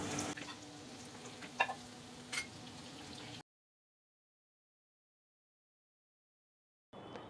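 Food frying in oil on a medium flame until golden brown, a steady soft sizzle with a few light clinks and stirring taps, fairly quiet, broken by a stretch of total silence before it briefly resumes.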